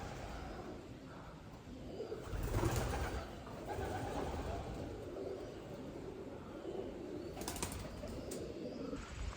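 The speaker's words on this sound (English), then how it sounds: "Some big pigeons." Large pigeons cooing at a historic state park, soft low coos repeating beneath faint outdoor ambience, with a brief flutter of wings, fairly quiet throughout.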